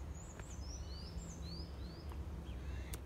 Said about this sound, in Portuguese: Olha o passarinho aqui.